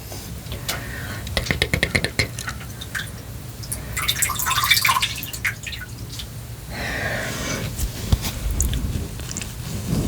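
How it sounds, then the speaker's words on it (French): Water is rinsed and drips during a French ASMR personal care session, with close, soft splashes, trickles and wet clicks over several seconds and no talking. "Je vais rincer un peu et je vais faire de même."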